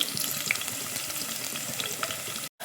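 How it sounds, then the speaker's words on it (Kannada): Onion and garlic sizzle steadily in a hot pan, a dense, continuous frying hiss with small crackles and pops throughout, close and fairly loud, cutting off abruptly near the end. "ಈರುಳ್ಳಿ ಬೆಳ್ಳುಳ್ಳಿ ಸ್ವಲ್ಪ ಬ್ರೌನ್ ಕಲರಾಗಿ ಚೇಂಜ್ ಆಗಲಿ"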